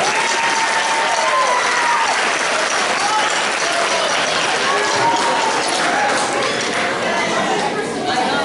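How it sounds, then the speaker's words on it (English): Audience at a middle school fall concert claps and cheers in a dense, steady wash of applause, with chatter and voices running through it. "now you have to clap for something"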